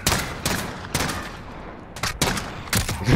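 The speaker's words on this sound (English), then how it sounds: "Why was he firing at like fucking SMG?" SMG gunfire in the video game Call of Duty: Modern Warfare: several sharp bursts of rapid automatic shots, some clustered together with brief gaps between them, fairly close and loud, with no talking over them.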